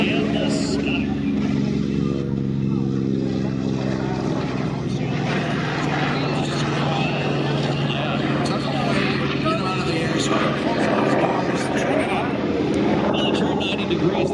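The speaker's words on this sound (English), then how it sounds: "here's one of your favorites coming up here, the Corsair and the Skyraider" Corsair and Skyraider warbirds fly past at the Miramar Airshow, their propeller engines droning loud and continuous throughout, with an announcer talking over the roar.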